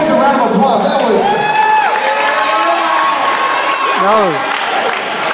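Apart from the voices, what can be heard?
church audience cheering and applauding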